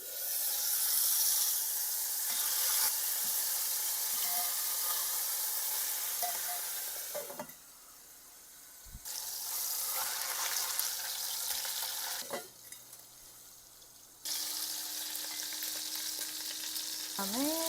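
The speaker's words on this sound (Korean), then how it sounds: "약불로 줄여서 껍질면부터 구워줄게요." Pork belly fries skin-side down over low heat in a pan, first as a loud sizzle, then muffled and quieter when a lid goes on, swelling again as the lid is lifted; clinks of the lid are heard, no voices.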